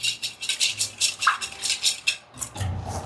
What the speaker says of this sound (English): we're going to give this a really good whisk to incorporate all that